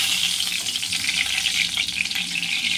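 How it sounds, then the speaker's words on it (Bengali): Two bay leaves hit hot oil in a kadai (wok) while tempering arhar dal, giving a loud, steady, close-up sizzle that crackles without a break and has no voices over it. "এবারে আমি কড়াইতে তেজপাতা দিয়ে দিলাম দুটো,"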